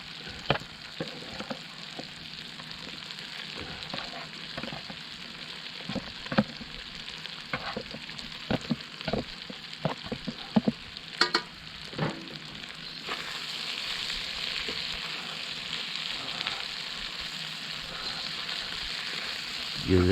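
Mushrooms and homegrown cherry baby tomatoes sizzle in a wok over a campfire outdoors while being stirred, with scraping and clattering strokes over steady frying hiss that swells louder toward the end.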